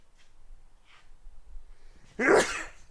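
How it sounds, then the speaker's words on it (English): A few quiet breaths and sniffs build up, then one sharp, loud sneeze bursts out near the end. "Oh, I got to sneeze."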